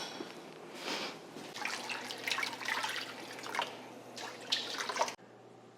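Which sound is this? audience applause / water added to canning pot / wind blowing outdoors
water added to canning pot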